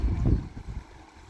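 Flowing water of the Narmada river, a close, steady low rush and churn that swells early and eases slightly, with light wind buffeting and no voices.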